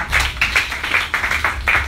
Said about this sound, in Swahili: Makofi mengine kwa ajili ya Bwana.